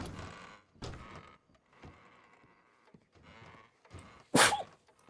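A single sharp, loud sneeze near the end of an online roleplay game session, following a stretch of quieter muffled sounds and shuffling.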